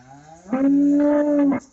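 A cow gives a single loud, drawn-out moo inside a barn on a farm, close by, with quiet surroundings before and after.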